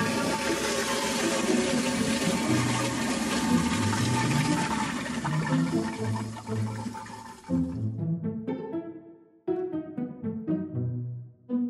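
A household toilet flushes loudly with a rushing gush of water for several seconds, then gurgles and drains in sputtering bursts as the bowl refills, with no talking.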